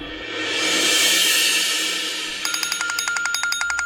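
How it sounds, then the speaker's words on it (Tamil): A phone in a Tamil TV serial scene starts ringing after a stretch of loud noise, giving a quick run of sharp, evenly spaced electronic ring pulses with no talking. "அந்த போனுக்கு யாரோ கூப்பிடுறாங்க"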